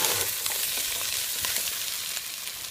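Aubergine stirred through a hot pan, giving a dense, steady sizzle of frying with soft scraping from the spoon, close and continuous, with no talking.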